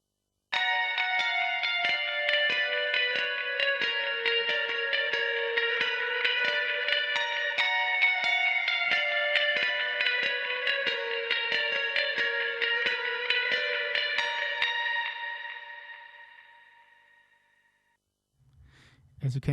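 Clean electric guitars, unmixed, in a metal production, play with a hard pick attack through heavy reverb and delay, a sustained shimmering arpeggiated layer that fades into a long tail before a brief sound at the end.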